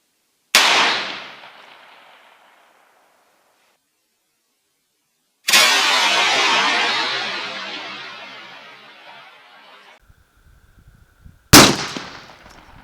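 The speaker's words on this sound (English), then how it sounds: "fourth shot is going to be with the Buffalo Bore 500 grain full metal jacket." Three sharp, loud .45-70 rifle shots fired with Buffalo Bore 500 grain full metal jacket rounds at sheet metal, each crack followed by a long decaying outdoor echo, the second ringing out for several seconds.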